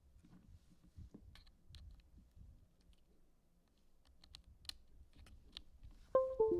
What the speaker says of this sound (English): So that is the Magic Keyboard for iMac.